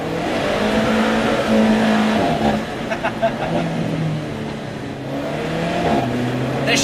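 An Alfa Romeo 4C sports car drives a winding road, its engine droning steadily and rising and falling in pitch as it shifts and accelerates through bends, loud and close, with talk over parts of it.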